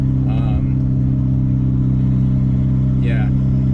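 A turbocharged car engine under hard acceleration holds a loud, steady, low droning roar from inside the cabin, with two brief bursts of voice over it.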